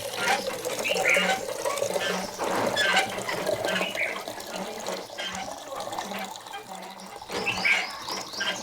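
Water gushes steadily from a freshly switched-on outlet of a long-life water storage setup, a continuous splashing flow heard close and fairly loud, with voices talking intermittently over it.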